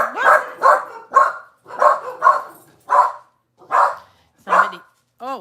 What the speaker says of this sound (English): That was Benji barking at a golden.